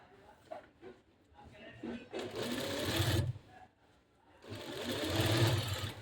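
A sewing machine stitches fabric in two sustained whirring runs of a couple of seconds each, close and fairly loud, with someone talking quietly in the pauses.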